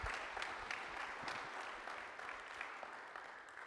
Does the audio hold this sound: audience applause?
yes